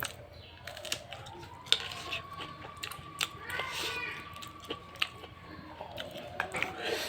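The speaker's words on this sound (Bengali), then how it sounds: "গরিবরা যেভাবে খায় আমিও সেভাবেই খাচ্ছি" A person chews a home-cooked meal of rice, lentils, fried eggplant and fried green chili, with close, steady mouth sounds, soft clicks and bites recurring throughout.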